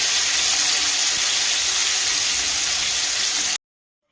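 Diced potato pieces frying in white cooking oil hiss in a loud, steady, unbroken sizzle close by, which stops abruptly near the end.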